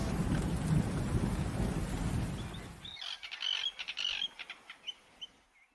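A thunderstorm with rain: a dense, loud roar of rainfall and rumbling thunder fills the first half, then cuts off abruptly, leaving bird chirps and tweets alone in a much quieter space.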